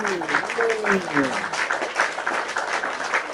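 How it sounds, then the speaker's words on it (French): An audience at a show applauds and cheers, a dense spread of clapping with shouting voices mixed in throughout. "maintenant, les acclamations, tout ce qu'il faut"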